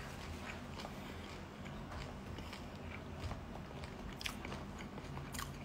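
Close, crisp crunching of a snack being bitten and chewed, with sharp crackles scattered over a steady munching texture.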